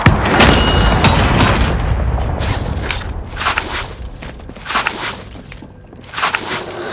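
Gunfire in a first-person shooter video game, loud booming shots and sharp cracks in irregular bursts under continuous battle noise, with no clear talk.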